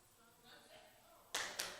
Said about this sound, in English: give me 3 claps